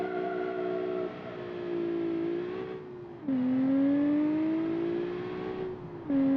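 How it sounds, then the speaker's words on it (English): A game car engine revs and accelerates in rising whining sweeps, dropping briefly between gear shifts, steady and close with no talk. "acceleration is very, very nice"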